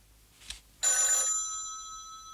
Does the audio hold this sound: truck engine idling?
no